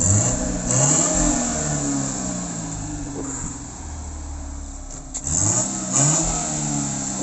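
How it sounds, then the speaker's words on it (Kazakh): Daewoo Nexia car engine revved repeatedly under throttle, rising and falling vroom swells over a rough idle, close and loud, with a quieter stretch mid-way before more revs. "Газ басып жіберіңіз."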